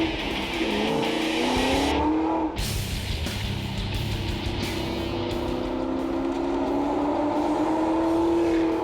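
A Mazda B2500 pickup fitted with a 600-horsepower Ford Lightning engine laps a wet racetrack, its engine droning loud and steady with rising and falling revs and a brief lift around the middle, continuous and close.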